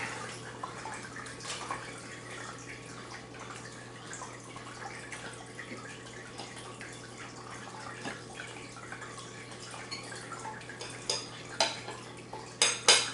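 Knife and fork cutting through a sausage and rosemary pizza on a plate, with steady faint scraping and light clinks that build into sharper, louder cutlery clacks near the end, no talking.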